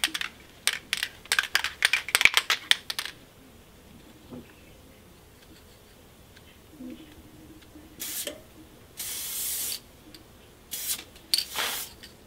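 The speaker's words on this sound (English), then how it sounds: "So we're gonna try to spray this on top of the trash can." A spray can hisses in short bursts over a sequin pillow held above a trash can, with sharp rapid rattling clicks at first, then longer steady sprays later, close and fairly loud.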